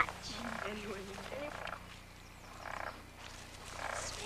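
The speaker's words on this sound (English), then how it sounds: "Jackie, what kind of frog are you looking for?" A frog croaks in a wet, muddy outdoor spot, giving a few faint, distant pulsing calls spaced a second or so apart over quiet background noise.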